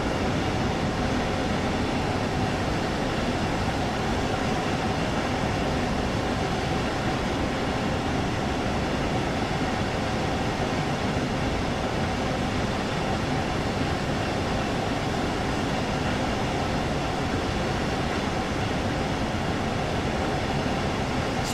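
Regional Express train running through German countryside in Train Sim World 3, a constant loud rumble of wheels and motor with steady broadband rolling noise from start to finish.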